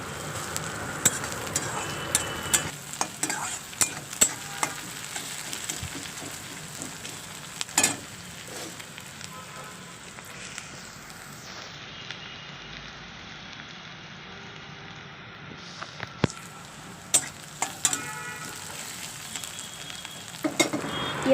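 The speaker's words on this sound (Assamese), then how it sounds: "এনেকৈ লাৰি অকণমান ৰঙা হ'ব দিছোঁ পিঁয়াজটো।" Chopped onion fries in hot oil in a pan, sizzling steadily throughout, with sharp scraping clicks from repeated stirring.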